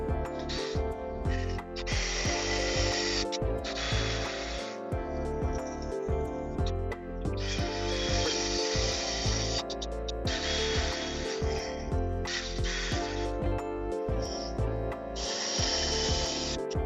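Power tool driving screws through wooden planks to attach them to the frame of a backyard umbrella stand bench, loud repeated bursts of whirring with short pauses between each screw.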